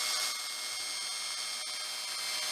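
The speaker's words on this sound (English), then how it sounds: "And I drill this completely parallel." A 3/16 spade bit in a power drill bores a straight, parallel hole while turning a ghost figure, giving a steady high-pitched whine at moderate volume that holds throughout with no talk.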